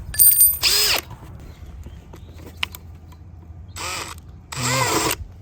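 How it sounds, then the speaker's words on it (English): A power drill whirs in several short bursts with pauses between, drilling for an anchor bolt, close and loud, with faint clicks and handling noise in the gaps. "So I'm gonna have to hold the drill pretty steady."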